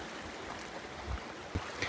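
Clear water rushing over stones at a mountain river crossing in Uttarakhand, a steady broadband wash, faint and continuous, with a few small splashes.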